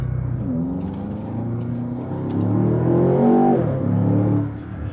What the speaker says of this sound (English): We'll end up flooring the brake, floor to gas, and let go, and it will launch.